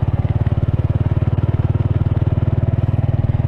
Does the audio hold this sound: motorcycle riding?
yes